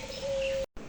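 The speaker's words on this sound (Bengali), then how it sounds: "এই যে এখানে কিন্তু এগুলো সব ঘুঘু দেখতে পাচ্ছেন এই খাঁচাটাতে" Doves cooing inside a zoo cage, a single sustained mellow coo held for most of the moment before cutting off, close and clear with no talk.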